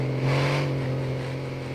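A truck engine in GTA 5 revs up with a rising, steady drone, fairly close, with no voices.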